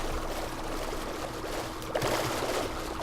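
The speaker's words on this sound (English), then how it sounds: "And a water sound." Running water in Minecraft pours and trickles steadily, a soft continuous splashing with a slightly louder surge near the end.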